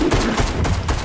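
Pistol fire spammed at an opponent in a video game, a rapid, dense burst of shots packed into about a second, loud and continuous with no talk over it.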